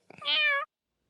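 A single clear cat meow, short and close, rises and then fades quickly into silence, with no talking around it.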